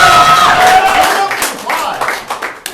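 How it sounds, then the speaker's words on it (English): Audience applause at a level 6 class showcase performance, a burst of clapping and light crowd noise that thins out over a few seconds, with some voices mixed in. "That was a great applause."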